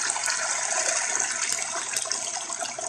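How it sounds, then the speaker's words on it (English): Strike water pours steadily into a mash tun through a strainer during batch sparging on a home brew day, a continuous close rushing gush of liquid that holds level throughout with no talking. "We're going to fill up the mash tun with the rest of our strike water."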